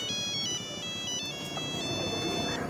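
A phone ringtone plays a repeating electronic melody of short bright tones, clear and fairly close, lasting a few seconds with no talking.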